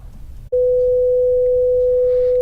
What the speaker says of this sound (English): So let's start out with the original sine wave.